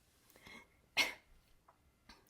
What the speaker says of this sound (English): I'll try to edit out any terrible coughs or anything.